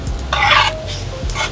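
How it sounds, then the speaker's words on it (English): Chopped onions sweat and sizzle in a hot pan for a mushroom dish, with a steady frying hiss that swells in bursts and stirring clatter below it. No one speaks. "You just want to kind of like sweat your onions so that your sauce doesn't turn dark when you're cooking this."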